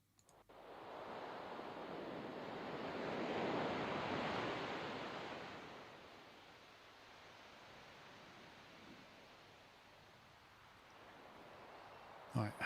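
Ocean waves breaking on a shore, a steady broad wash of surf that swells to a louder peak and then eases into a softer, continuous roar.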